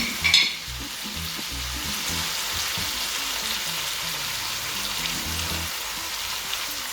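Garlic shrimp for gambas al ajillo sizzles steadily in a pan, a bright close crackle of frying oil with faint stirring and a short clink near the start.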